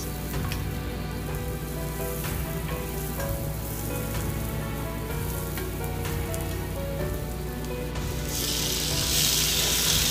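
Sliced onion and tomato sautéing in a pan for a Chinese-style goat kaldereta, a steady close sizzle and crackle that holds evenly and rises slightly at the end, with no talk.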